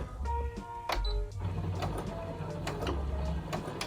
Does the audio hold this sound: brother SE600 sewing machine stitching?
yes